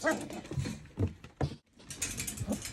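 Mini goldendoodle puppies, about four to five weeks old, whimper and whine in short bursts close by while a person speaks gently to them.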